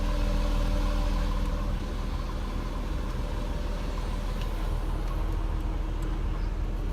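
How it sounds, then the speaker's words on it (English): A V6 car engine idles with a steady, low rumble through dual exhaust, close by and continuous, with no voices. "Dual exhaust. So you got a little rumble to it too. The V6 still has some aggression"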